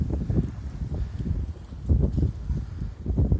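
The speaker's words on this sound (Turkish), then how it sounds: "Çılgın rüzgar var." Strong wind buffets the microphone in low, uneven gusts, a rough rumbling roar that surges and eases throughout.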